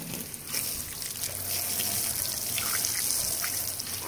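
A garden hose sprays water, rinsing things off in a steady, close hiss and splash that runs unbroken and fairly loud throughout.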